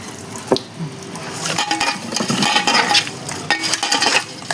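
Small Ganges kajli fish being salted and shaken in a bowl with water, a close, wet sloshing and clattering that comes in busy irregular bursts, with light knocks against the bowl and no talking.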